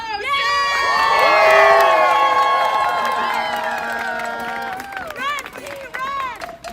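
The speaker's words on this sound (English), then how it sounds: "Please start clapping for City Council Member Chio" At a rally supporting striking Starbucks baristas, a crowd cheers and shouts for a city council member, with loud overlapping whoops and yells swelling and then fading, and scattered clapping beneath.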